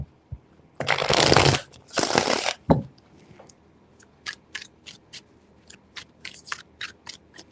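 Tarot cards are riffled in two quick, loud bursts, then tapped and flicked in a run of short, crisp snaps.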